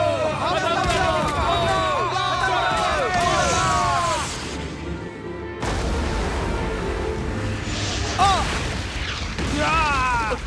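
Cartoon battle scene with booming explosions and clashing effects under shouting voices, loud and dense throughout, with a sudden cut midway before the chaos resumes.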